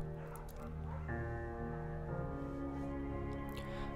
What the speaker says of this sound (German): Bucket ist ein guter Hund.